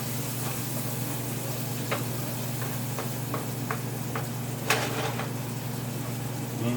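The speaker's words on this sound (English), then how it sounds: "Saute up some onion a bit." Chopped onion sautés quietly in a pan for a Jamaican coconut curry crab stew, a soft steady sizzle with a low kitchen hum and a few light clicks and taps of utensils, no talking.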